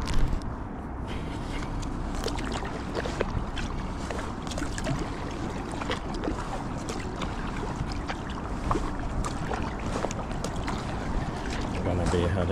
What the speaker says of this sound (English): I'm gonna paddle over on the other side